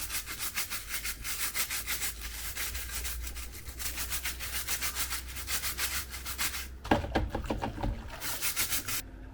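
A brush scrubs a Bosch dishwasher filter, a rapid, steady back-and-forth rasping rub that continues close up for several seconds with a brief change of stroke near the end.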